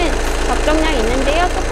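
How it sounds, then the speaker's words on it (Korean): Volkswagen Beetle 2.0 TDI diesel engine idles steadily with a close, even low rumble and rhythmic clatter, while someone talks over it. "엔진 소리도 일정합니다."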